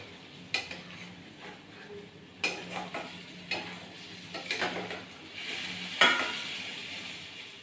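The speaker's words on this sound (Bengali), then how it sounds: "আবারও ভালো করে নাড়াচাড়া করে নেব।" Egg kosha masala stirred in a pan, with repeated scrapes and metallic clinks at irregular intervals over a low sizzle. The sound is fairly quiet.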